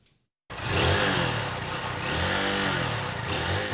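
A motorcycle engine starts after a brief silence, then revs up and pulls away, its mid-pitched drone rising and falling as it accelerates, loud and near with no talking.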